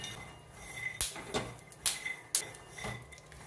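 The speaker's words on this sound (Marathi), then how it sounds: "शेंगदाणे भाजताना छान चटचट असा आवाज यायला लागलेला आहे" Dry-roasting peanuts, 200 grams of them, shifting in a pan over a low flame give off a few sharp, separate crackles and clinks at irregular gaps against a low steady background.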